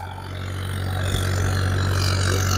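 Farmtrac 60 Powermax tractor running in low-range top gear while sowing a wet field with a harrow; a steady, close diesel drone holds throughout with a strong low hum, no talk.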